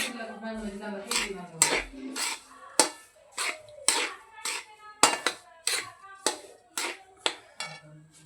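A spoon stirs semolina in a metal pan for sheera, made as a Ganesh Jayanti offering; about a dozen sharp clinks and scrapes follow one another in a loose, steady rhythm, with a voice speaking briefly at the start.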